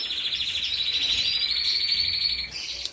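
Caged goldfinches and canaries chirping together in an aviary, a dense continuous twittering of bright overlapping chirps, close and fairly loud, with no voices.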